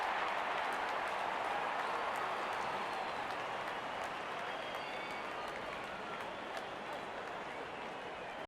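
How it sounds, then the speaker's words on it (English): A stadium crowd in the cricket video game Real Cricket, at an IPL match between CSK and RCB, cheers and claps in a continuous, even roar that holds steady throughout. "Openers walking in and the crowd cheering in anticipation"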